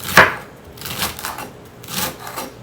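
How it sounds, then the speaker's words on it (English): A knife chops collard greens into skinny ribbons on a cutting board, with a sharp first strike followed by a run of softer, uneven chops close by. "I'm going to speed through this while I finish chopping"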